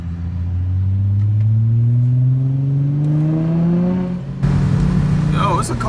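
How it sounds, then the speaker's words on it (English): A car accelerates close by, its engine tone climbing steadily for several seconds before a louder burst of road and engine noise takes over. "it's a car behind me."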